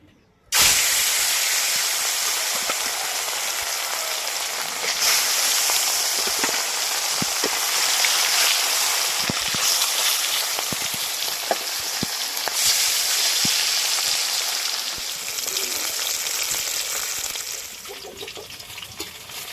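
Fish drops into hot mustard oil in a pan on the stove and keeps frying with a loud, steady hiss and sputter, scattered crackles popping through the sizzle for the whole stretch.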